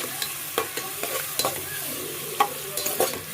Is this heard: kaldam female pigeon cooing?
no